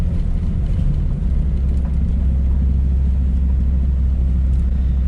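A supercharged Ford F150 climbs a remote mountain road: a loud, steady low engine drone and road rumble, unbroken and with no voices.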